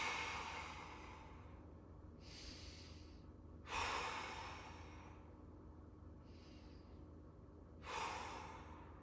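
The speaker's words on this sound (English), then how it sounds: "3 big breaths." Slow, deep breaths during an overhead-reach stretch with the lats lengthening, audible as three broad airy inhale-exhale swells spaced a few seconds apart over a low steady room hum.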